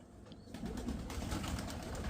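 Pigeons kept in a loft, a flock of flying birds, coo steadily at close range over a dense, continuous outdoor bed that grows louder after the first half second.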